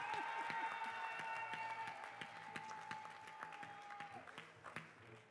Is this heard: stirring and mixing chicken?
no